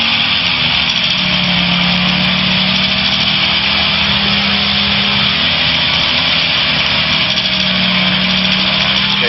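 A Challenger II light aircraft's small engine drones loud and steady close by at full throttle for takeoff, a constant high buzzing roar with no break.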